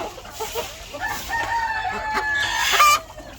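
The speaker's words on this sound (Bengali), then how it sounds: "এই সাদা মোরগ।" A white rooster crows up close while egg-laying hens cluck around it on a poultry farm, the calls overlapping in a busy farmyard chorus.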